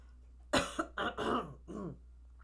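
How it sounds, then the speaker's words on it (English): Several harsh coughs in a quick burst, close to the microphone, followed by a softer throat-clearing cough. "that's why my voice is changing because I'm about to cough"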